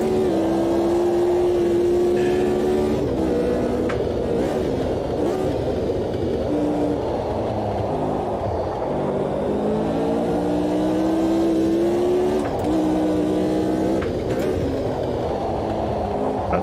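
A historic race car in Automobilista 2 downshifts with repeated throttle blips, its engine note dropping and rising in steps as it slows into a corner, loud and continuous with no talk.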